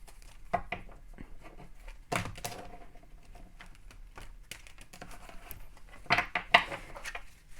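Tarot cards being shuffled by hand, faint soft riffles and slaps with a few sharper bursts of card rustling near the start and end, quiet and close with no talking.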